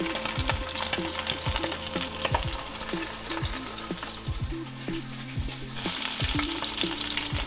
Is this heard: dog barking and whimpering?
no